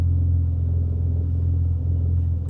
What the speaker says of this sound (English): Ignore the exhaust leak.